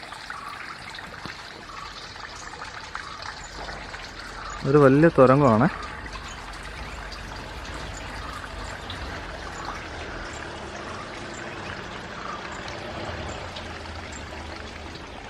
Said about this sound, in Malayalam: അത് വെള്ളം വീഴുന്ന സൗണ്ട് കേൾക്കുന്നുണ്ടല്ലോ.